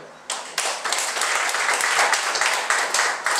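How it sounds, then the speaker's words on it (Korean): A church congregation breaks into loud, sustained applause, dense clapping from many hands filling the room after a brief quieter moment at the start. "다시 한번 박수 드릴까요?"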